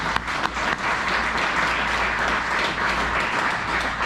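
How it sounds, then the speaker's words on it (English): Applause from a crowd at a Rotary club meeting, welcoming new members: steady, dense clapping that fills the room and holds at an even level throughout, with no talk over it. "let's give them one more round of applause"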